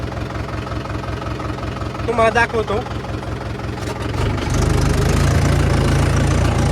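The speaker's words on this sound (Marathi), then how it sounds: "आपण आपला ट्रॅक्टर फक्त दहाच्या आर आर पी एमवरती आपण ट्रॅक्टर चालवणार आहात" A tractor engine running in third gear at low rpm while ploughing hard field soil, a steady close knocking idle that deepens and grows louder near the end, with someone talking over it.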